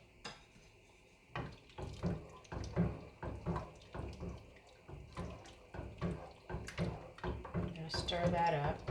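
Water, about 3 or 4 cups, splashes into a metal pot amid clinking of cookware and utensils, close up, with a person talking over it while making turkey chili.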